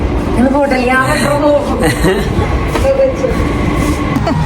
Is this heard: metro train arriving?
yes